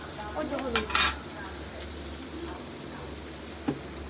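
Turmeric and pumpkin frying in a pan, with a low steady sizzle and a few sharp stirring scrapes near the start, then a quieter simmer with a single clink near the end.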